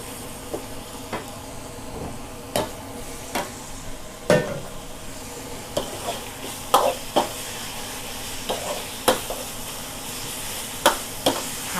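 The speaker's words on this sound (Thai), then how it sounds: "ผัดให้หอมนิดหน่อยนะคะ" Beef sizzling with curry paste in a hot wok under a steady frying hiss, punctuated by repeated scraping clanks of a spatula stirring every second or so.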